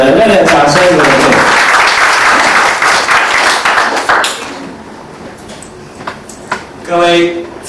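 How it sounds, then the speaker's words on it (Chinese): A roomful of people at a training seminar claps loudly to welcome a speaker to the stage, the applause fading after about four seconds into scattered taps before a voice speaks. "来，我们欢迎周龙周老师，热烈掌声鼓励"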